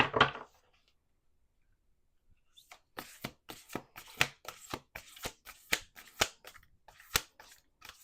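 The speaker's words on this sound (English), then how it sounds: "We're going to do one more shuffle." Tarot cards being shuffled by hand, an opening brush followed by a pause and then a quick run of sharp, crisp riffling snaps, close up and alone.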